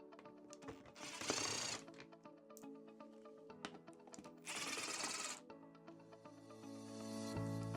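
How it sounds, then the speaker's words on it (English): A size 5 hex key works screws loose on a CFMOTO Ibex 450 motorcycle: a couple of bursts of rapid ratcheting whir, separated by metallic clicks and taps, close up and without speech. "what we have here is a size 5 hex head to take off these 3 screws"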